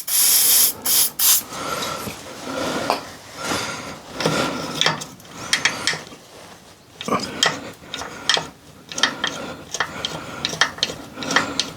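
Penetrating oil hissing from an aerosol can onto a seized bolt on a David Brown tractor, in several sharp close bursts separated by clanks and knocks of tools and metal parts.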